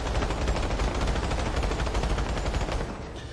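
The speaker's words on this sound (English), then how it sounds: "So we'll do a firing down the sight option, full mag, and also no recoil control." A full magazine of automatic aimed-down-sight fire in the video game Planetside 2, a rapid, steady stream of loud shots lasting about three seconds with no talk.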